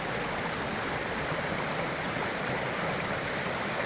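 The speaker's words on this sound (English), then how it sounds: "Now you know it's a little stream when you can see the rhododendron actually in the water." A small mountain brook trout stream with rhododendron growing into the water flows steadily, a constant broadband rush and gurgle of water close by, unbroken and with no talk.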